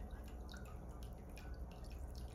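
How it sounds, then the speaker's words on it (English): Seashells, including a Hebrew cone, soaking in vinegar give off a faint, steady fizz of tiny bubbles, with soft dripping and liquid ticks continuing throughout. "Hebrew cone's bubbling."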